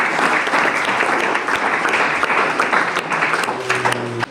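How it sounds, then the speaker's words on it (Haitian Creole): Sustained audience applause at a holiday celebration gathering, dense steady clapping from a crowd filling the room throughout, with a faint tone entering near the end. "Merci beaucoup Sébastien, applaudis Sébastien."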